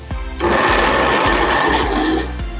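An electric blender grinds kencur and turmeric with a little water, a steady loud whirring motor note that runs continuously for a couple of seconds before cutting off, with no voices.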